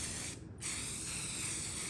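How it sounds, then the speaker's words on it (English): Steady hissing spray from an aerosol can of Rust-Oleum metallic gold spray paint on nightstands, close by, with a brief pause before the spraying resumes and continues evenly. "I'm going to spray them with Rust-Oleum metallic"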